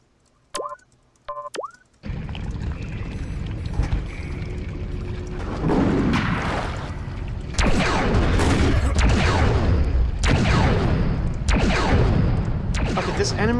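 Enemy rifle fire in Carnivores Cityscape crackles in repeated loud bursts over a dense roaring background, after a few brief tonal chirps at the start, with shots spaced a second or two apart.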